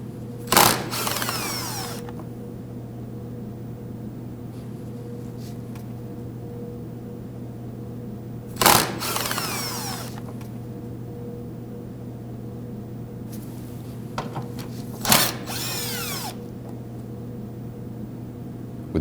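A power driver whirs in three short bursts, backing out the Phillips head screws on a 2016-2022 Honda Pilot front turn signal, with a steady hum underneath and quiet handling sounds between runs.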